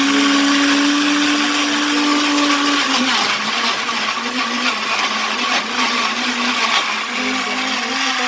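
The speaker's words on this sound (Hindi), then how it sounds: "इसको मैं ब्लेंड कर लूँगी अच्छे तरीके से" An electric blender runs loud and steady while blending chopped ginger and other ingredients for a chicken gravy. Its motor pitch sags slightly partway through as the load shifts, and no one talks over it.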